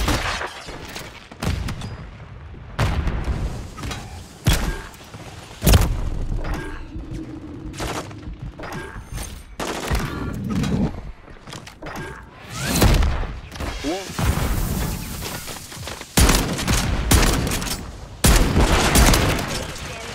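Repeated shotgun blasts from a video game, booming bursts fired in quick irregular succession across the stretch, loud and close, with voices talking over and between the shots.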